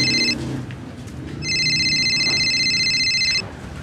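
A telephone rings with a rapid electronic trill, two bursts separated by a short pause, loud and close in a quiet room.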